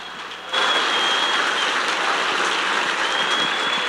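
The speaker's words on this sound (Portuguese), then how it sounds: "E aplaudindo ao Senhor, vamos receber o nosso pastor Alexandre Feijão." A church congregation bursts into applause to welcome pastor Alexandre Feijão at a Sunday morning service, a sudden loud onset of dense clapping after half a second that stays sustained and even.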